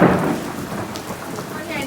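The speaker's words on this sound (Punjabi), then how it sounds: "ਮੀਂਹ ਨੇ ਨਾ ਪੂਰੀ ਐ ਰਫਤਾਰ ਫੜ ਲਈ ਐ ਤੇ ਬਿਜਲੀ ਵੀ ਪੂਰੀ ਕੜਕਦੀ ਐ" Heavy rain pours steadily with a low rumble of thunder underneath.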